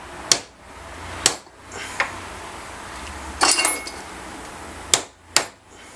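Hammer tapping a Welch plug flat on a carburetor from an Evinrude Johnson 9.9/15 outboard: a handful of sharp, close metallic taps spaced irregularly, with no talk.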